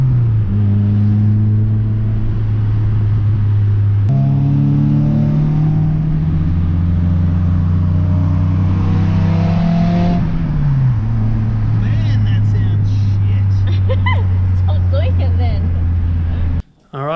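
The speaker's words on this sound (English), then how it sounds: "One sports exhaust for your single cam nugget of a Civic" A single-cam Honda Civic with a sports exhaust revs steadily, its droning engine note stepping up and down in pitch over a sustained rumble, loud and close, with a brief cutoff at the end.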